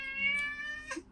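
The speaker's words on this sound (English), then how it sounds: "Oh, that's my cat." A pet cat gives one drawn-out meow lasting about a second, fairly faint and indoors, with nothing else around it.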